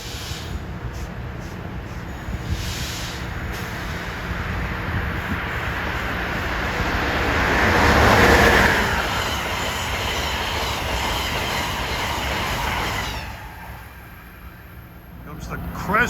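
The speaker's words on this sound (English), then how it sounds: "Train 193 is coming from New York to Washington." Amtrak train 193, running from New York to Washington, rumbles past Princeton Junction station with steady wheel and rail noise that swells to a peak midway and then fades, with faint squealing wheels.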